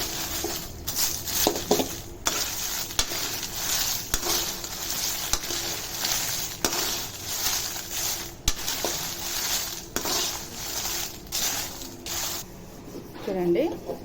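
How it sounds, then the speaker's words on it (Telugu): Dry red chillies roasting in a pan for homemade rasam powder, giving a steady dry rustle and sizzle with scrapes and clinks of stirring throughout, under a voice speaking now and then. "మిర్చిని మార్చకుండా మాడిపోకుండా బాగా వేయించుకోవాలి"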